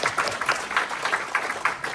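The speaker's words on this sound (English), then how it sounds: "I think you should just clap one more time right there" An audience at a K-Beauty skin and hair company presentation breaks into applause, a dense wash of clapping that lasts a couple of seconds at moderate volume with no talk over it.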